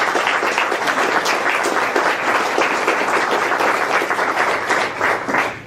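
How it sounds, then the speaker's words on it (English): Sustained applause from an audience at a Somerset County, New Jersey Democratic nominating convention, steady and loud clapping filling the room throughout with no pauses. "And give yourselves a round of applause."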